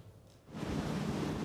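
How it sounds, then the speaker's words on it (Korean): Rough winter sea swells crash and wash as a cod fishing boat heads out, a faint hush that swells into a steady, broad roar of surf and wind. "겨울바다의 거친 파도를 뚫고 대구잡이 어선이 출항합니다"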